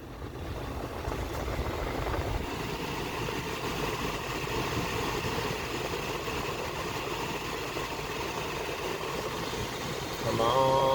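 A 2002 Lexus GS300 idles with its AC compressor engaged, a steady mid-pitched engine hum running evenly throughout, growing slightly louder and brighter near the end.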